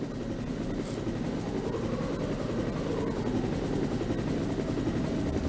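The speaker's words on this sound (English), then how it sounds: "So then the helicopter can come and fetch us." A helicopter arriving in the Resident Evil video game, its rotor chop a steady rapid beat over a continuous engine hum that stays even and fairly close throughout, with no speech.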